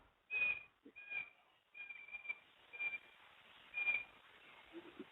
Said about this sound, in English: Because I can hear a bird calling up there.